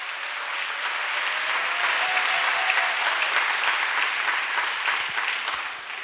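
An audience at a church service applauds, a dense, steady burst of clapping that swells and holds, then tapers off near the end, with no talking.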